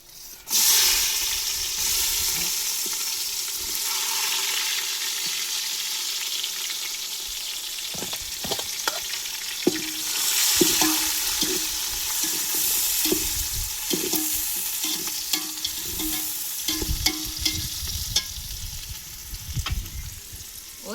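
Onions frying in ghee in a biryani pot, a steady loud sizzle that runs throughout, joined about a third of the way in by repeated scraping stirs and clinks of a ladle against the pot.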